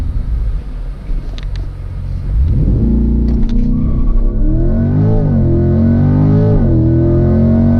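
A 2020 Chevrolet C8 Corvette holds a low idle rumble, then launches hard on launch control, its engine roaring loudly and rising through the revs with a quick shift dip, heard from inside the car.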